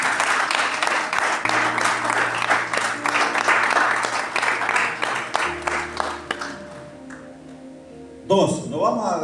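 A church congregation applauds warmly for several seconds, the clapping fading out as a voice starts speaking near the end.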